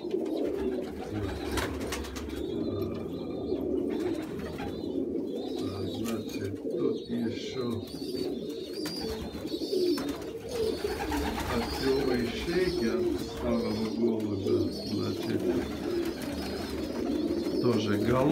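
Pigeons in a dovecote coo steadily in soft, throaty, overlapping calls that continue throughout at moderate volume, while someone talks over them.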